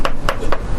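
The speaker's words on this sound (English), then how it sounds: "What's this guy's doing? Chopping some onion?" A knife chops onion on a board during morning prep in a Hong Kong restaurant kitchen, four crisp evenly spaced cuts, close and loud with no talk.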